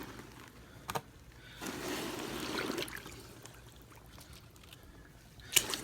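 Water sloshes and trickles as a deer hide is weighted down with rocks and pushed under the surface for hair removal; a broad splashy swell in the middle, with a few sharp knocks from the rocks, fairly close and moderate in level.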